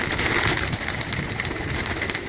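Pigeons on a rooftop in Kasur, kept for racing, coo and flutter amid a dense, noisy outdoor wash of sound, with no talking.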